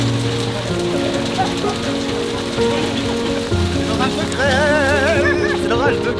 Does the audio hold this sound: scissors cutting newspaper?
no